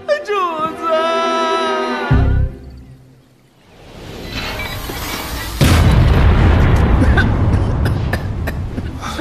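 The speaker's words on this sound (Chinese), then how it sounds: "咋又炸炉了？" An animated alchemy furnace explodes with a deep, heavy boom, followed by a swelling roar and a second loud blast that trails into a long rumbling rush; talk comes just before the blasts.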